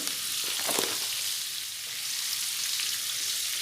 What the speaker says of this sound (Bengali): হলুদ গুঁড়ো দিয়ে ডিমগুলো খুব ভালোভাবে ভেজে নেব।